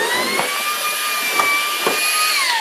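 An Ultenic U20 cordless stick vacuum runs steadily in turbo mode on a short-pile rug, giving a loud, close, high-pitched motor whine with faint bumps as the brush moves.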